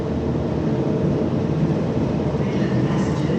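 A low, steady rumble of a new Australind passenger train departing Perth Station nearby, with broadband mechanical noise and no clear voices.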